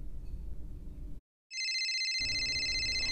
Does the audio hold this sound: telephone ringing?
yes